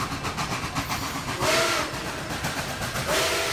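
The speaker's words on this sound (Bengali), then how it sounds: "ট্রেনটা প্রবেশ করলো আরেকটা টানেলের মধ্যে।" A train rumbling along with a steady hiss as it runs into a tunnel, two short whistle tones rising out of the continuous roar.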